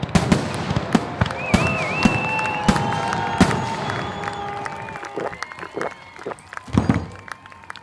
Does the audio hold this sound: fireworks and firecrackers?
yes